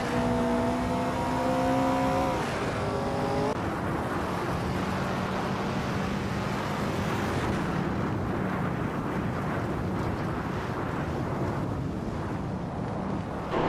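Engine of a 1966 McLaren Elva Chevrolet race car in a racing game, a loud continuous roar with rising gear-change whines early on, then settling into a dense, steady drone.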